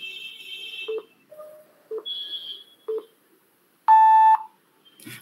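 During an online business pitch session, a series of short electronic beeps and tones sound in sequence, ending with one longer, louder steady beep that signals the start.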